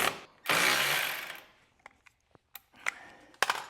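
A burst of mechanical rattling and whirring comes while the auger belt tension is adjusted on a Troy-Bilt Storm 2840 snow blower, followed by a few sharp clicks and clunks of parts and tools close by.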